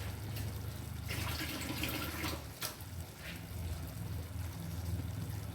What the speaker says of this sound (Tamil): ரெண்டரை டம்ளர் தண்ணி போட்டுக்கிறேன்